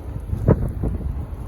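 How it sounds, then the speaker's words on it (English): Gusting wind buffets the microphone outdoors, a continuous low rumbling roar with a stronger burst midway, no voices. "it's too windy. You can hear it, it's picking up right as I come on."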